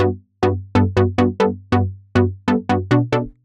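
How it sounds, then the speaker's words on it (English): A synth saw wave with a low-pass filter plays a series of short punchy notes, each with a bright attack that quickly darkens and fades, in an uneven rhythm. "it's basically just a saw wave with a low pass filter with a nice punchy envelope"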